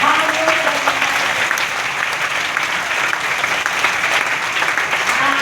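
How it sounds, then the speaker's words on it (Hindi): Steady, dense applause from a large audience fills the whole stretch, loud and continuous without breaks. "पीछे वाला ताली बजा रहे हैं"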